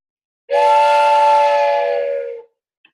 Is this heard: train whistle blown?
yes